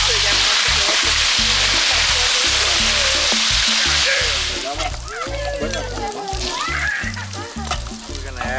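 Discada meat sizzles in a large pan while being stirred, giving a loud, close frying hiss that thins out partway through, with a voice talking over it in the second half.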